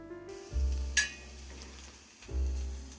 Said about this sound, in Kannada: ಈರುಳ್ಳಿ ಟೊಮೊಟೊ ಒಂದು ಇಷ್ಟು ಬೆಳ್ಳುಳ್ಳಿ ಇವೆಲ್ಲ ಹುರ್ಕೊಂಡು ಚಟ್ನಿ ಮಾಡ್ತೀನಿ